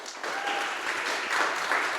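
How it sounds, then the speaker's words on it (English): Audience applause for the startup finalists at a tech summit competition, a dense, steady clapping from a crowd that swells in right away and carries evenly for two seconds without any speech. "So if we can have a round of applause to all the startups that made it to the finals."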